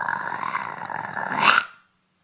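A person imitates a growl with a long, raspy, throaty rumble held steadily and rising slightly in force before cutting off abruptly into silence.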